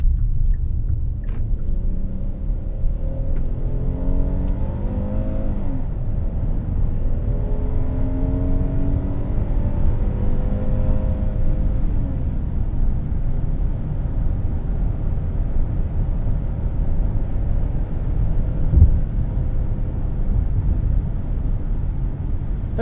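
A 2024 Hyundai Palisade Calligraphy AWD driving while gears are shifted with the paddle shifters, heard from inside the cabin: a steady low road rumble with engine tones that climb and drop in rising sweeps as gears change.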